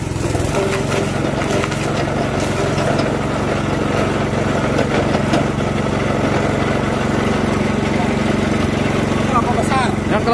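A coconut peeling machine's engine runs loud and steady, its throttle pushed up to a higher rev with a constant droning hum, while people talk over it.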